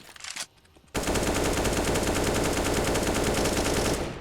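Sustained automatic gunfire in a Counter-Strike match on the Vertigo map, a continuous loud burst of rapid shots running nearly the whole clip after a brief opening sound and short gap.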